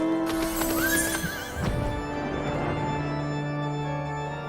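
A horse whinnies loudly up close in Final Fantasy XIV, a high wavering neigh, followed by a few hoof clops over a sustained musical drone.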